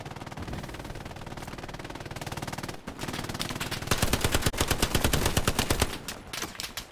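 Sustained machine gun fire in the World War II shooter Hell Let Loose, rapid bursts crackling continuously at close range, briefly pausing near the midpoint before resuming louder and denser with no talk.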